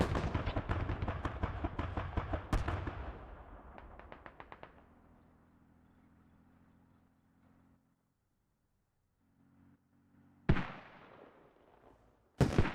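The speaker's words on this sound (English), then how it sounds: "Mortars coming in." Incoming mortar and artillery fire in the tactical shooter game Squad, with rapid loud blasts and crackling bursts at first that fade into a low rumble, then two sharp, heavy impacts near the end.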